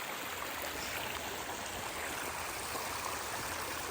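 A river stream flows steadily outdoors, a close, continuous broadband rush of moving water with no breaks and no voices.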